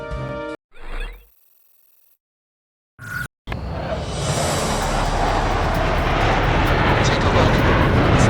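Fighter jet taking off in the Ace Combat 6 video game: after a brief talk-filled intro and some clicks, a loud, steady engine roar builds and sustains, close and broadband.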